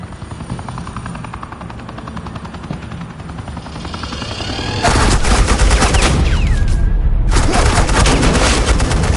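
Suppressing gunfire in the video game Batman The Enemy Within bursts in loud and close over a steady helicopter-like drone, dense rapid shots that pause briefly and then resume.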